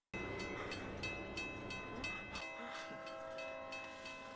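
A train rushes along the tracks toward a car stalled on a level crossing, with a steady rumbling roar, a sustained horn tone and rhythmic clattering that stays loud and close throughout.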